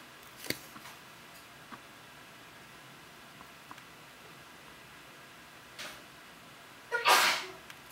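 One sharp sneeze bursts out near the end during a quiet miniature-painting session of a converted Warhammer Ministorum Priest, with only faint ticks and small desk sounds before it.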